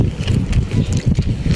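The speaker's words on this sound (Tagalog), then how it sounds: "Sobrang hangin." Strong gusting wind buffets the microphone at a boat pier where boats are tied, low rumbling thumps and roars rising and falling in uneven pulses, loud and close.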